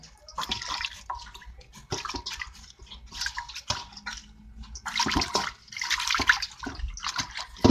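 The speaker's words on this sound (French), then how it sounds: "même on va laver n'importe quel végétal pour une salade" Vegetables are washed for a salad under running water, with splashing, sloshing and dripping in uneven bursts close by, rising and falling as the produce is handled in the stream.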